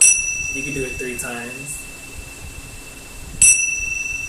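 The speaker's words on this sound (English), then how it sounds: "you just strike the bells just like that" Small bells struck to cleanse crystals ring out indoors, one bright metallic strike near the middle and another sharp one toward the end, their high tones lingering, with someone speaking softly at the start.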